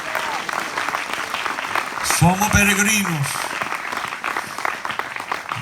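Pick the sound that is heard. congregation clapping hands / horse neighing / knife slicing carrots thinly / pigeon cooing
congregation clapping hands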